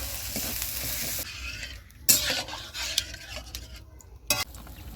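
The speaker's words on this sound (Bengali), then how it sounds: "এখন আমি পরিমাণ মতো জল দিয়ে দেবো।" Water added to a pan of sizzling fried spice masala for pangas fish curry brings a sharp hiss and bubbling frying, broken by a few clinks of a utensil against the pan.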